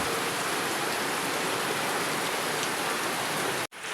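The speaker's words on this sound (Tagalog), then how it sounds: "Ulan." Rain falls in a steady, even hiss that stays constant throughout, then cuts off abruptly just before the end.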